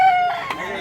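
A rooster in Consolacion, Cebu gives a loud, close crow, a sustained tonal call that drops off partway through and is followed by a brief burst of noise.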